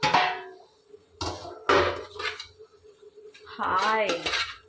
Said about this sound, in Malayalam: നല്ലപോലെ വശിക്കെടുത്തിട്ട് നമുക്കൊന്ന് അടച്ചു വയ്ക്കാം.